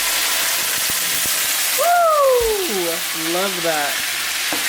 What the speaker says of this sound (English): I'm gonna add my wine to the pan.